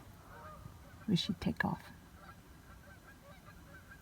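Geese honking at Mingo National Wildlife Refuge: a short cluster of four or five loud honks in quick succession, set against quiet outdoor background, with a person speaking briefly nearby.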